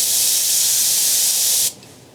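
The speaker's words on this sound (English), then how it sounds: "So it's spraying." A steady, close hiss of an airbrush spraying paint onto a fishing lure for about a second and a half, then cutting off abruptly.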